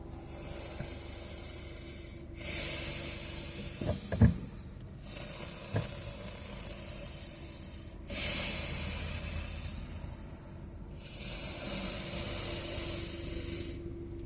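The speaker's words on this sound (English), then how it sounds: "Let's do 3 deep inhales and exhales." Deep, slow inhales and exhales of a breathing exercise, a steady airy hiss swelling and fading in long alternating cycles with a few brief soft knocks, heard alone without talk.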